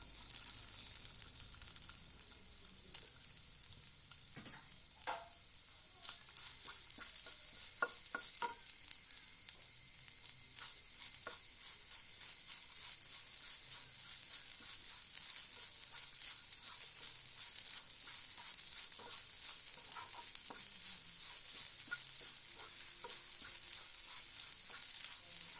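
Grated coconut, about half a cup, frying in hot oil for a Kerala-style roast, with a steady close sizzle throughout and occasional stirring scrapes and clinks.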